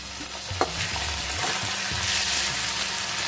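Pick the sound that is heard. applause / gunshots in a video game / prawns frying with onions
prawns frying with onions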